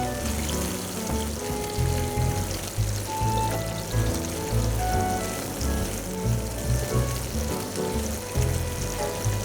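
Sausage, olives and capsicum sizzling and frying in a pan, a steady close crackle and hiss running unbroken throughout with a soft background tone and no talking.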